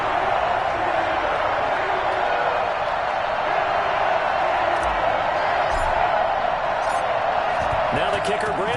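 Stadium crowd roaring at Heinz Field before kickoff of a Broncos versus Steelers game in Madden 21, a steady dense wash of cheering that holds at full level throughout the clip.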